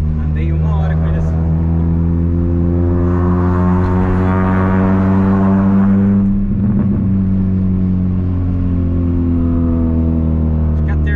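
A 1999 VW Gol G2 with a 1.0 8V engine and a 4-inch HKS exhaust drones loudly with a deep, steady engine note, swelling briefly as it revs midway, while people talk inside the car.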